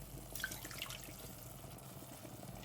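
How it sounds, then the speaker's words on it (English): A cup of water is poured into a pot of Nigerian fried rice, a soft continuous splashing trickle that is quiet and close. "I'm going to go in with 1 cup of water."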